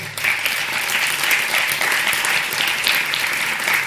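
An audience at the Agile Grenoble 2018 conference gives a talk's guest loud, sustained applause, thick and continuous from start to end with only faint voices underneath.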